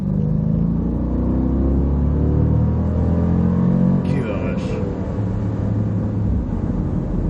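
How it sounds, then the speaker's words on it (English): Jeep SRT Grand Cherokee accelerating hard onto a freeway, heard from inside the cabin as a deep, steady engine rumble and road roar that holds strong throughout. "No one's in front of us, so that allows us to hit the throttle"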